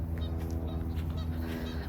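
Geese or ducks honking on a lake in Milton on a fine day, a steady chorus of calls over a constant low outdoor rumble.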